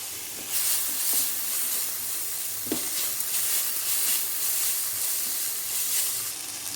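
Tomato and onion sizzle steadily in a hot pan with a constant hiss, and a spoon scrapes and clinks now and then as they are stirred.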